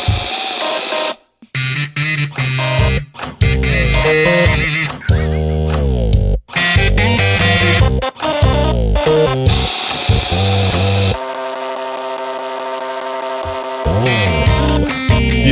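A song played on electric toothbrushes, an epilator and a credit card machine: loud, dense buzzing and whirring motor tones shifting pitch in a melody, with clicking beeps and brief gaps, close and without talk.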